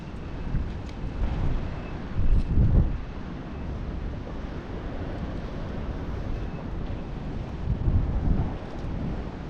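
Wind gusts buffet a small boat moored beside mangrove trees, a steady low rumble that swells louder around two and eight seconds, with no voices.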